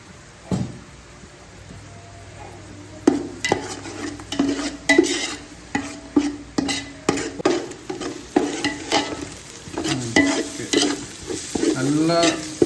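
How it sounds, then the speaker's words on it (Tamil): Onions with a little salt sautéing in a pan for seeraga samba chicken biryani, a crackling sizzle under repeated rhythmic scraping stirs of a spatula against the pan, close up with no voices. "இப்போது இந்த டைமில் வெங்காயம் சீக்கிரம் வதங்குறதுக்கு கொஞ்சமாக உப்பு சேர்த்துக்கலாம்."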